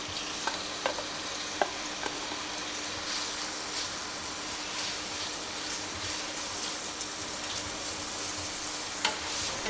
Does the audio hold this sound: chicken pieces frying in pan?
yes